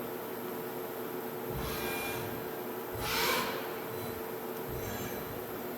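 A 2006 Sharp SV-2412 CNC mill jogging its axes: a steady, loud mechanical hum and whir that swells in short surges as the axes move, with no talking.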